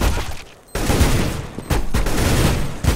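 Rapid, loud gunfire in a CS:GO match on the Mirage map, dense bursts of automatic shots with brief gaps between volleys.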